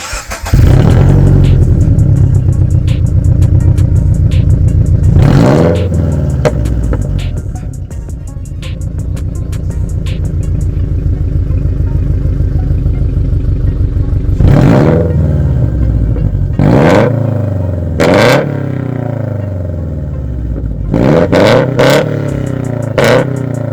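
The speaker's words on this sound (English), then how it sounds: "So we'll just do some quick revs" A Subaru BRZ engine with headers revs hard and loud several times, blips rising and falling over a steady idle rumble, close by.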